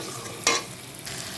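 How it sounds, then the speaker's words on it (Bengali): Potatoes and pointed gourd sautéed with spices in a pan, with a single sharp scraping stir standing out over a quiet steady sizzle and a softer second stir toward the end, close, with no talk. "20 থেকে 25 সেকেন্ড মতো আমি কষিয়ে নিচ্ছি সব।"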